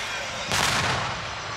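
A single loud firework boom bursts out in the middle and quickly decays, set against a steady background hiss, at Disneyland.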